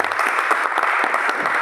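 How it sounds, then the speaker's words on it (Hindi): Loud, dense applause from an audience honoring Mithilesh ji at a gathering, steady clapping filling the whole moment with no voices on top. "मिथिलेश जी के लिए एक बार जोरदार तालियां होनी चाहिए"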